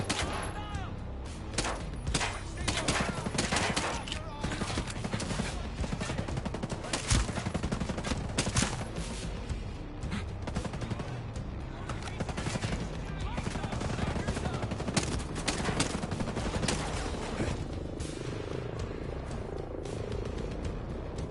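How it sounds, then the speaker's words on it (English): Sustained bursts of gunfire in the video game Ghost Recon, rapid automatic volleys crackling almost without pause over a muffled game soundscape for twenty seconds. "They're just shooting their boss."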